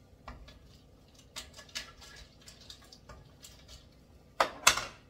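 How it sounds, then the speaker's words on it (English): Peaches go into a pot of boiling water during home canning, with sporadic soft clinks and light splashes, then two sharper, louder splashes near the end. "we'll get the next batch put in the boiling water."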